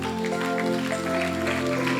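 A church congregation at a Sunday service claps steadily and fairly closely, with sustained musical tones, likely organ or keyboard, running underneath.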